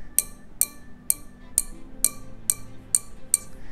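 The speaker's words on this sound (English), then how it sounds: "Each glass makes a different sound because there's a different amount of water in the glass." Musical glasses holding different amounts of water are struck one after another, giving nine bright, ringing clinks at an even pace. Each note rings out clearly and fades quickly in a quiet room.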